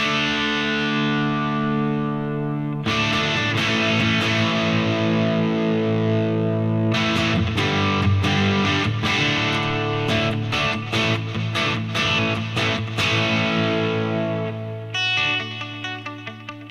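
Electric guitar, a Gibson Les Paul played through an Obsessive Drive overdrive pedal: thick, distorted sustained chords, then a run of choppy strummed hits, loud and close.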